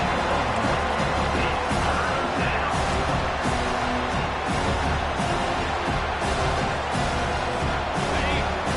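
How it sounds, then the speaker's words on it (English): Steady roar of a football stadium crowd cheering on the defense during a third-down play, a broad sustained wash of voices that stays loud and dense throughout. "Decibels rising as the crowd gets behind this defense on 3rd down."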